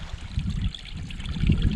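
Mountain spring water in northern Scandinavia flows and trickles close by, a gurgling stream with low churning bursts that swell and ease, heard alone.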